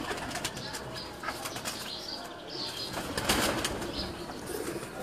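Pigeons in a collection kept in Rawalpindi beat their wings in a close, rushing flutter that runs throughout and swells near the end.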